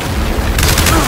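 Dense, loud gunfire in a Gears of War 5 firefight, a short continuous roar of shots and booms with a voice briefly underneath.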